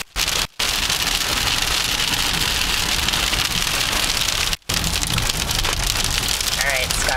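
Hail pounding on a car while driving on Inner North Fork Road through a burn area on the west side of Glacier: a loud, dense, unbroken roar of impacts, close and constant, with two brief dropouts.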